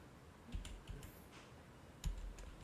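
Soft typing on a computer keyboard, with a few separate keystroke clicks spread across a quiet stretch and no one talking.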